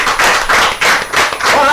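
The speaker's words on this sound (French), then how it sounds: "Allez, applaudissements pour lui." Rhythmic clapping from a concert audience, loud and near, with about four evenly spaced pulses of claps across a short stretch.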